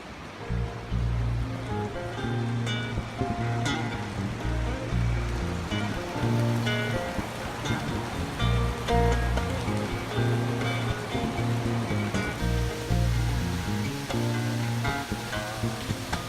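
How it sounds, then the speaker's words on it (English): The Seniara Creek in Italy's Anzasca Valley tumbles over rocky cascades into the river Anza. Its rushing water is loud and continuous, with churning surges nearby. "The Seniara Creek tumbles over cascades into the river Anza"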